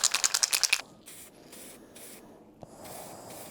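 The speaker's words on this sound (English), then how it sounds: "The overspray is just enormous from this spray bottle" Short bursts of spray from a handheld spray bottle applying two-component paint to a BMW E39 530i Touring part, several soft hissing puffs after a rapid rattle of pumping at the start.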